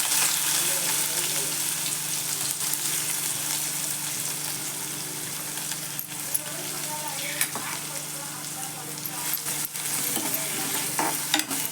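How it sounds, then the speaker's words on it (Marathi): Onion sizzles steadily in a pan with cumin, mustard seeds, garlic paste and ginger paste, a continuous close frying hiss broken by occasional scraping stirs, no talking over it. "कांदा चांगला परतून घ्यायचा"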